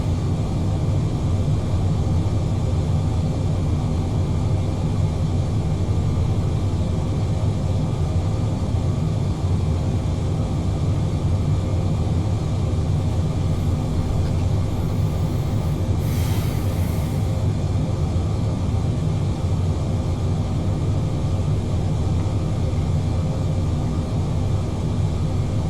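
Steady, continuous drone of a Boeing 787 airliner climbing after departure from Baltimore in Flight Simulator 2020, a broad even engine roar and airflow hum held at constant level throughout, with no voices.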